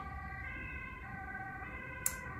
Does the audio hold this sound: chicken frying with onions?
no